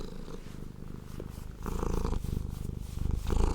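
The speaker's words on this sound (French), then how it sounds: "Si vous voulez vous endormir avec des ronrons de chat, c'est maintenant." Close, rhythmic cat purring rumbles steadily, growing slightly louder in pulsing in-and-out cycles with no talking.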